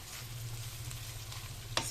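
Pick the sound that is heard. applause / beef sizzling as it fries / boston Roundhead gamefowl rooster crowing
beef sizzling as it fries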